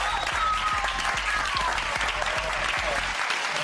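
A television studio audience applauds during a reality show broadcast, dense even clapping that stays loud throughout, with soft low thumps underneath and a quick drop at the very end.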